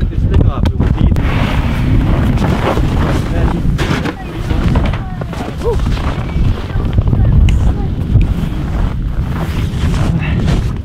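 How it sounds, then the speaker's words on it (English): Strong wind roars and buffets the microphone outdoors on a frozen lake during ice fishing at Okoboji, Iowa. The gusting rumble is loud and constant, with voices faintly under it. "Man, that wind is raunchy."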